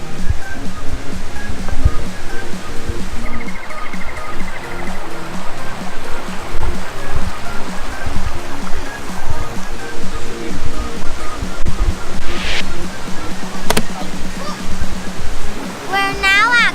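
Rushing water at Gardners Falls near Maleny, a dense, steady roar close by that continues unbroken, with brief voices and a few faint clicks over it.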